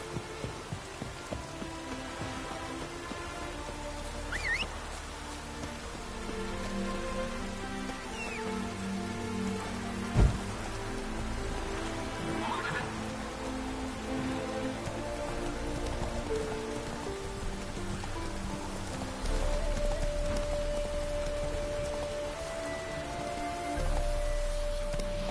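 Steady rainfall in Witcher 3, an even patter on surfaces throughout with soft tonal background sounds and a single brief thud partway through, no speech.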